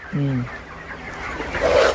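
A broiler chicken on a farm gives one short clear cluck near the start, followed by softer flock murmuring and rustling, with a brief louder burst near the end.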